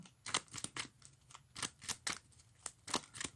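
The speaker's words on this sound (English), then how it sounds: "deck is shuffled" Quick papery riffles and snaps of cards being shuffled, several short bursts in an uneven rhythm, close and fairly quiet with no voices.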